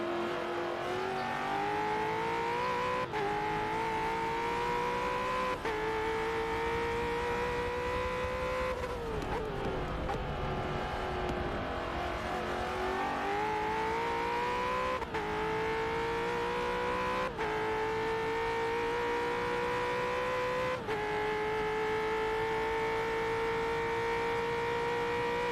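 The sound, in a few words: supercars racing at Bathurst, downshifting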